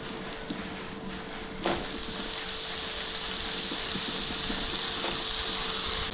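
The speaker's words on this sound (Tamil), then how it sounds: "வெங்காயம் நல்லா வதங்கினதும் கத்திரிக்காய் போட்டுக்கலாங்க." Onions and brinjal sautéing in a pan, giving a continuous hissing sizzle with a few faint stirring clicks early on, close and steady.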